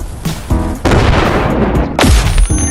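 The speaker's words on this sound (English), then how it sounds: "That's a grenade." Loud, close grenade explosions in an online arena video game, a series of heavy booming blasts and crackling bursts filling the whole moment, no talking over them.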